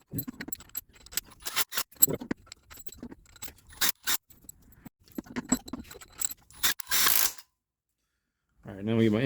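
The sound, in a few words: weak impact gun running down head bolts on Integra engine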